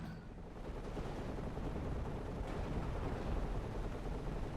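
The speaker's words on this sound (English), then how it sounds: "here's the support Cromwell firing heat at these enemy vehicles" A Cromwell tank fires high-explosive shells at enemy vehicles in a WWII strategy game. The shots come as a continuous, dense rumble of battlefield gunfire and blasts, fairly faint and steady throughout, with no talking.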